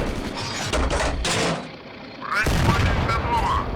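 Cannon shell striking a tank turret in the Steel Fury tank game, with a BT-5 Mod. 39 in action: a burst of loud gunfire early on, a dip, then a second heavy impact and rumble that rings on, with faint voices.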